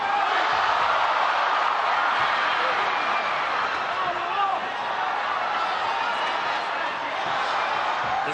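Dense, roaring boxing arena crowd during a Manny Pacquiao versus Lucas Matthysse fight, a steady wall of noise with swelling excitement across the whole stretch, loud and continuous with no clear gaps.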